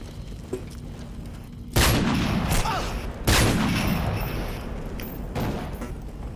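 Gunfire in the video game Call of Duty: Modern Warfare 3 breaks out in two loud bursts of shots and booms, with a fainter shot before them and echoing tails after.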